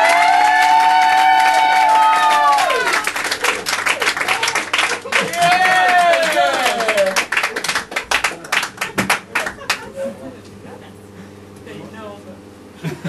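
An audience at a 30th birthday party show applauds a young performer with sustained clapping and cheering over a fading sung melody and voices, the claps thinning into scattered taps toward the end.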